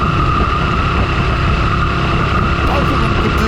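A Royal Enfield 650 twin, a Continental GT 650 or Interceptor 650, rides along with a steady engine and exhaust drone mixed with rushing wind noise. The sound stays loud and even throughout.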